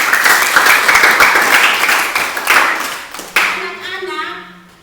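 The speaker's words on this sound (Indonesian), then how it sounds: "Sekali lagi tepuk tangan buat semuanya." Children in a religious education class clap their hands together. The clapping is loud and close at first, then fades, and a voice speaks near the end as it dies away.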